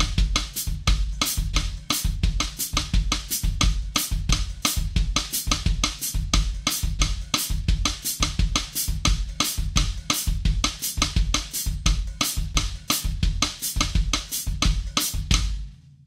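A drum kit plays a samba pattern for bossa nova and samba: a steady bass drum foot pattern with left-hand rim clicks, a fast, even, close and loud groove that stops cleanly at the end.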